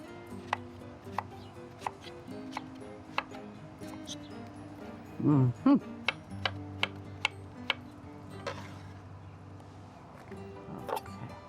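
A knife slices cooked shrimp for a shrimp and melon salad with a string of crisp, evenly spaced taps on a cutting board, quiet and close, with one brief heavier knock midway.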